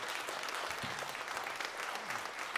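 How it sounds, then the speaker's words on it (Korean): Congregation applauding in a church during a Christmas Day Sunday service, a steady dense wash of clapping from many hands, fairly distant and even throughout. "다시 한번 하나님께 영광의 박수 올리겠습니다."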